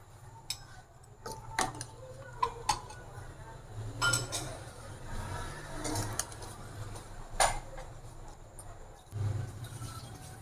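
A spoon clinks and scrapes against a cooking pot while mutton and chickpeas with salt, ground coriander and whole green chillies are stirred, giving irregular metallic taps over a low steady background hum, with no talk.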